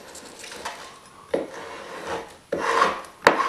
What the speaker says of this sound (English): Just scrape down.